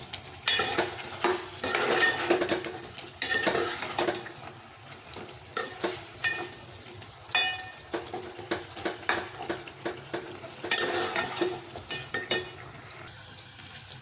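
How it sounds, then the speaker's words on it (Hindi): Ginger garlic paste sizzles and fries in a pan for chicken karahi while a spoon scrapes and stirs in repeated strokes, a close, continuous crackle with clinks of utensil on metal and no talk. "अब इसके अंदर जो लहसुन अदरक का पेस्ट हमने पीसा था वो ऐड कर दूँगी।"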